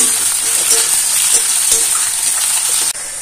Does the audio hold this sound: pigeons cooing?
no